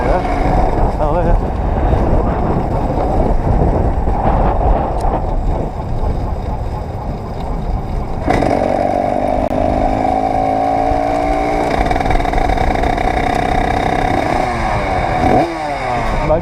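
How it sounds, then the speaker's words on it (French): A motorcycle engine runs steadily throughout with its gearbox turning and making an odd noise, loud and close with wind buffeting, the pitch shifting and rising about halfway through as the load changes. "Et quand la boîte elle tourne, elle fait un bruit chelou."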